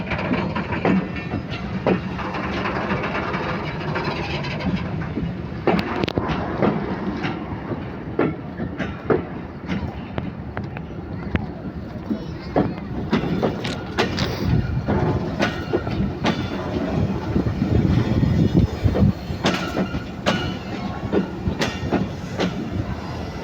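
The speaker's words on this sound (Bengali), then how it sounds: "দেখেন লোহার উপর দিয়ে লোহার চাকা দিয়ে ট্রেন যাচ্ছে" A train rolls on iron wheels over iron rails while crossing from line 2 to line 1, a continuous loud rumble with repeated clickety-clack beats through the points and occasional sharp wheel squeals.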